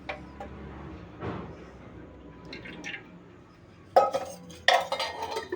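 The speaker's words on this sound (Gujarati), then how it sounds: "હવે આપણે કઢાઈ મૂકી દીધી છે અને હવે આપણે કઢાઈમાં નાખી દઈશું તેલ" A metal kadai is set on a stove with a few sharp clanks and clinks, then quieter rustles and drips as oil goes in, ending with louder metallic knocks.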